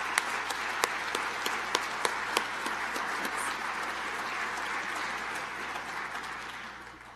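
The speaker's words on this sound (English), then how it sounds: "Let's give them a round of applause." An audience at a university spring convocation gives a sustained round of applause, an even wash of many hands with a few sharp nearby claps standing out early, then slowly fading toward the end.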